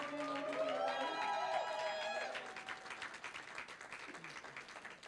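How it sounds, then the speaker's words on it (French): A church congregation applauds loudly, a dense burst of clapping and cheering with some voices and music that fades down after a couple of seconds into lighter scattered claps and crowd noise. "Acclame très fort le Seigneur."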